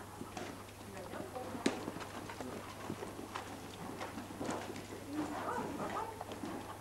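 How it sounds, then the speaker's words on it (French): A horse moving in a riding lesson, its hooves giving a faint, soft, irregular clip-clop at a distance, with light background noise and a few birds. "Au pas, tu vas te mettre au galop."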